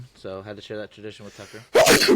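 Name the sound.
sneeze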